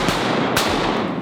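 Two shotgun blasts ring out during a duck hunt in Arkansas timber, the second louder and sharper, both sitting over a dense, noisy outdoor background.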